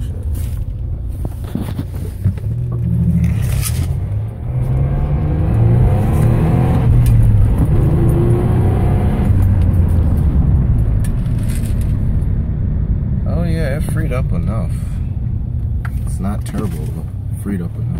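A 1999 California-spec Nissan Maxima fitted with a federal-spec exhaust revs loudly and steadily, its engine tone rising and falling, heard with the windows closed and a voice speaking briefly over it.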